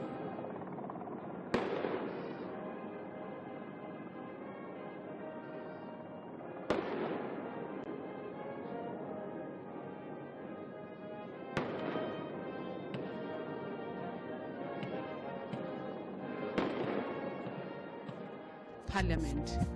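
Heavy cannon reports of a 21-gun salute at South Africa's State of the Nation Address, four loud booms spaced about five seconds apart, each ringing out over a dense, sustained background of crowd and ceremonial sound.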